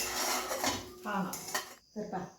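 Cooked vegetable being scooped out of an iron kadhai, with a run of close metallic scraping and clinking of a spoon against the pan, broken by short pauses.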